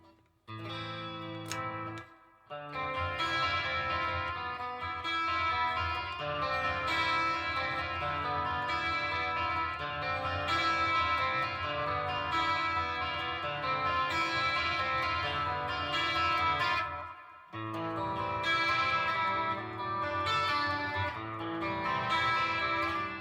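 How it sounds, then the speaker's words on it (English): Electric guitar played through a pitch modulation pedal with reverb from a Flint pedal: sustained, shimmering chords ring steadily and loudly, broken by two brief silent gaps before resuming. "Let's go into the pitch mod sound for a second. I may put a bit of reverb from the Flint on."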